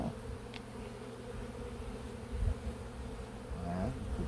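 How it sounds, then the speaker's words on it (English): Honeybees hum steadily around an opened backyard hive during an inspection, a soft continuous buzz with a couple of individual bees passing closer. "a bee just flew on your finger"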